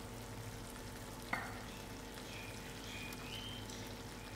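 A banana kebab sizzles steadily in a pan with peas and tomatoes, a constant close frying hiss broken by one brief clink near the start.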